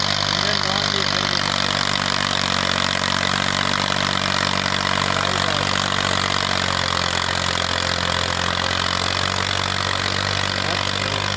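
A new-model diesel tractor engine idles steadily and loudly throughout, a continuous low rumble with a constant hum and no revving.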